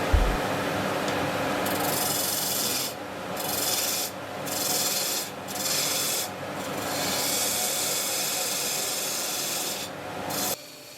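A wooden block is turned into an acorn on a lathe, a loud continuous scraping hiss of the tool cutting the spinning wood, pausing briefly several times, then stopping at the end.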